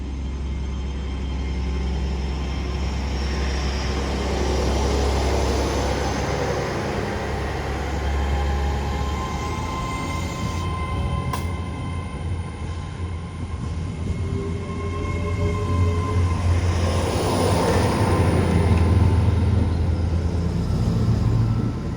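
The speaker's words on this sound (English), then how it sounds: "So heading out now is the 11:39 Great Western Railway service from Cardiff Central to Exeter St David's" A Great Western Railway passenger train, unit 800034, rumbles steadily as it pulls away from Cardiff Central, low mechanical drone building toward the end, with a faint whine and a brief squeal partway through.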